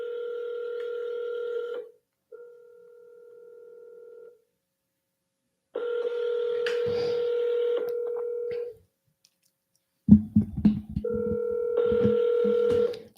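Telephone keypad dialing tones during a round of real-estate cold calls to cash buyers, steady tone bursts in several separate sequences, loud and close, alone with no talking.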